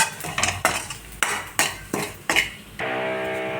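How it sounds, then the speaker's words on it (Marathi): A spoon scraping and knocking against a pan as semolina roasts in ghee, about seven distinct metallic strokes in an uneven rhythm, then a steady low sizzle, close and fairly loud. "आता आपण रवा भाजून घेऊया हा जो आपण अर्धा वाटी रवा घेतलेला आहे ना हा छानपैकी असा भाजून घेऊया"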